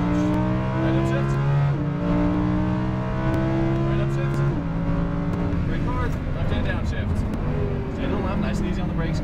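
A Lamborghini Huracan LP610-4 engine roars close by at full throttle on a racetrack, its pitch climbing and dropping through quick gear changes, loud and continuous throughout.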